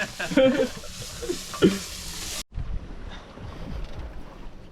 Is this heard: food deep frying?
yes